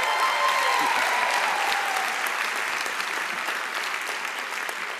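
Loud applause from a commencement audience for Professor Paula Lance, swelling at first and then slowly fading, with some vocal sounds and cheers mixed in.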